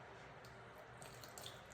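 Water pours and trickles faintly into a bowl while tortilla dough is mixed at home, a soft steady stream with a few light splashes and drips toward the end.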